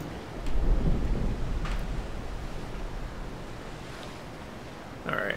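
Naval Action warship cannon fire in a naval sea battle, heavy low booms rumbling in succession like distant thunder over a constant wash of sea and weather ambience, with a sharper report near the end.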